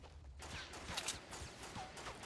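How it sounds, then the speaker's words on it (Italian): Gunfire from the video game Fortnite, a string of sharp bursts and reports at moderate distance with steady game ambience between shots, no talk. "Ho sentito uno sparo io."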